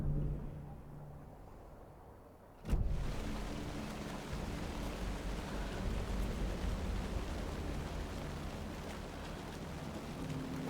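Heavy rain pouring over a drowned crime scene in the video game Alan Wake 2, a dense continuous hiss that swells suddenly after a sharp crack and then holds steady and loud.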